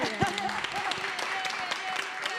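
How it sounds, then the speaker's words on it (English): An audience claps after an orchestra performance, moderate applause mixed with voices and some tonal sounds running through it. "Can we get a round of applause, please, for that stunning piece of work?"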